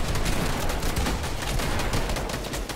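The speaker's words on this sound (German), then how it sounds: "Schuss!" Rapid, dense gunfire from a Fortnite match in a competitive trios cup, with sustained bursts of automatic shots crackling loudly and continuously with no pause.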